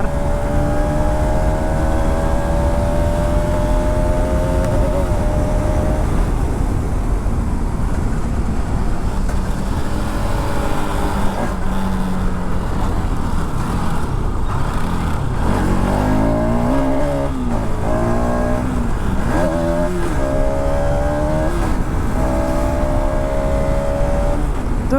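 A Bajaj Pulsar RS200 motorcycle engine revs and climbs through gears continuously, the pitch rising and falling as it accelerates hard at close range.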